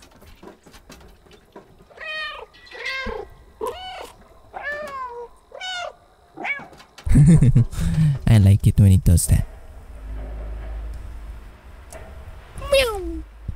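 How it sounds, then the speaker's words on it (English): A cat meows several times in the Stray video game, close and clear, with a young voice talking alongside and louder bursts of game sound in between. "Meow."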